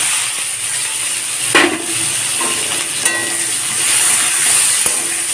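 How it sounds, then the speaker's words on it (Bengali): Onions fry in hot oil left from frying silver carp, with a loud, steady sizzle and hiss, broken by a few spoon taps and scrapes against the pan. "এখন মাছ ভাজার এই তেলেই পেঁয়াজগুলোকে দিয়ে ভেজে নেব"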